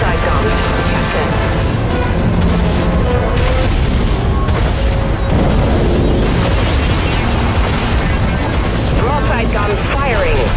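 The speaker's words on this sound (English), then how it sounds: "Broadside guns firing." Spaceship broadside cannons firing in the game Dreadnought, a dense, loud, continuous barrage of booms and blasts with a voice talking over the battle noise.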